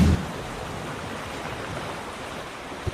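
Steady broadband rush of flowing water from a spring feeding a river, continuous and fairly soft throughout, with a brief low thump near the start and end.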